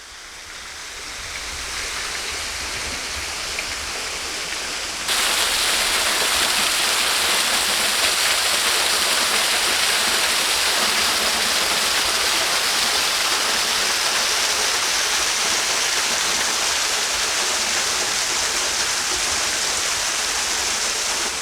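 A steady, loud roar of Noorabad Waterfall in the Himalayan foothills pouring into a pool, continuous and close, swelling to full strength after a few seconds with no talking.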